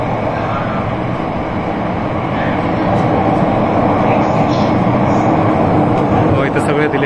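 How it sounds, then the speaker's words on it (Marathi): A Mumbai underground Metro Line 3 train runs through its tunnel with a loud, steady broadband rumble and roar that swells slightly partway through, heard from close by. "किती फास्ट पळते बघा ही रेल्वे,"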